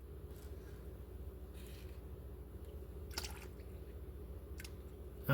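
Transmission fluid and motor oil trickle and drip quietly from a Honda Civic into a container, a soft steady flow with occasional louder splashes.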